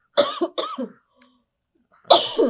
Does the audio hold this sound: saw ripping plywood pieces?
no